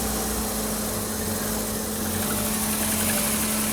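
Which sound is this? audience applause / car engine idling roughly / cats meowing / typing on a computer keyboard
car engine idling roughly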